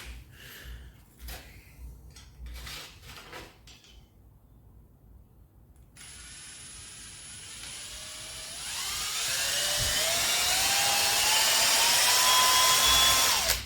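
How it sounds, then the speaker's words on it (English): A small drill bores a hole through a steel rotor of an RC helicopter, starting with handling clicks, then a steady whine that rises in pitch and grows louder as the bit bites in, close up. "drill the hole through the rotor"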